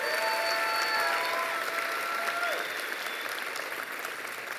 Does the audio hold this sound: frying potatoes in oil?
no